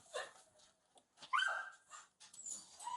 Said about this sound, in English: These dogs are just barking for food at this point.